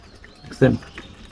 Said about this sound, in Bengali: এরা সকালবেলায় কিচির কিচির মিচির না ঘুঘু ঘুঘু করে একটা জিনিস ডাকে